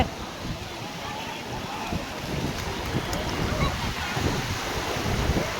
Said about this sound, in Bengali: ওই ঢেউ আসছে, ঢেউ আসছে, ঢেউ আসছে